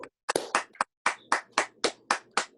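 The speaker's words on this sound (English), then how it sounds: "let's give them another round of applause." A small group gives a round of applause after a Special Olympics workout with the 49ers, with several short bursts of clapping in quick succession, fairly near and not very loud, with no talk.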